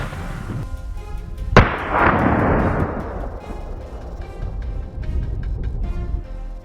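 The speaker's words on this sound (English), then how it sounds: "They bolted so fast that we had to fire immediately." Gunshots fired at a bolting herd of wild boars during a hunt: one loud, close crack followed by a long rolling echo, then scattered fainter pops and rustling outdoors.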